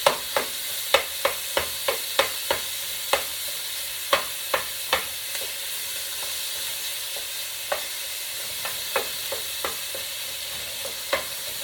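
Pepper steak strips stir-fry over high heat in a pan, with a steady sizzle broken by sharp, irregular scrapes and clicks from the stirring utensil, close and clear with no talking.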